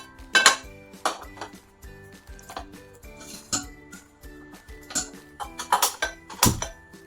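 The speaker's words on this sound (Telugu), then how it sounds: "ఇవన్నీ డ్రై రోస్ట్ చేసుకుందామండి." Garlic, washed curry leaves, cumin and fenugreek being dry roasted in a pan with no oil, heard as irregular metallic clinks and scrapes of a spatula against the pan, with a few louder knocks and no talking.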